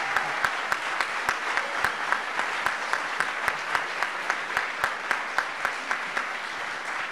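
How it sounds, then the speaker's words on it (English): An audience applauds steadily, a dense wash of clapping with a few sharper individual claps standing out in a regular pattern. "Let's give them a round of applause."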